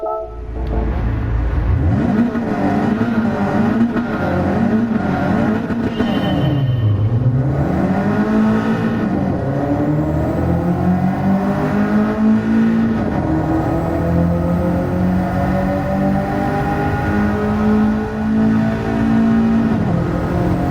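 A stock Nissan Silvia S14 race car in a video game race revs up from the start, then its engine rises and falls through gear changes and settles into a sustained high whine, loud and continuous throughout.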